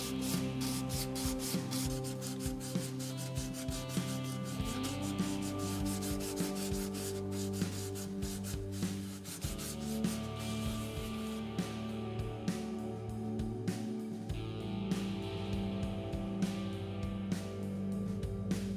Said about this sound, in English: Here I am using an attachment for my spindle sander to sand the headstock transition.